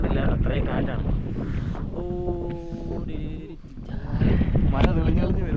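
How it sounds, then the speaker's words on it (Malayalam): Strong wind blows across the Kurishumala hilltop and buffets the microphone with a deep, continuous roar and gusty rumble, while a person talks over it. "നിൽക്കാൻ പറ്റുന്നില്ല, അത്രയും കാറ്റാണ്."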